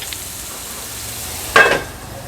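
Onion softens in oil over a low flame for a green pea curry, making a faint, quiet sizzle with one short scraping clatter partway through.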